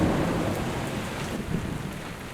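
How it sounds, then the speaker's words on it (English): A thunderstorm over a boat lying at anchor: steady heavy rain hiss with low rumbling thunder rolling underneath, continuous and fairly loud throughout. "An unexpected thunderstorm kept most of us awake."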